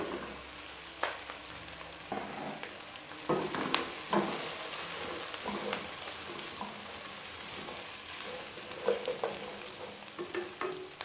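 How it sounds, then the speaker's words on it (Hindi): Pieces of already-fried chicken stir-fry over high heat for chicken Manchurian, producing a soft sizzle broken by irregular scraping and clattering stirring strokes at moderate distance, with no talking. "अब हम इसमें जो फ्राई की हुई थी चिकन वो ऐड कर देंगे।"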